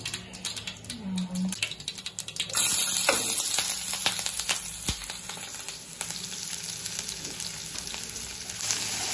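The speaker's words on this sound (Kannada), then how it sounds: "ಪ್ಯಾನ್ ಒಳಗೆ ಆಲೂನ ಫ್ರೈ ಮಾಡಬೇಕು." Potatoes frying in a pan for vada pav, a steady crackling sizzle that runs the whole time, rising louder partway through as if stirred, with faint clinks under it.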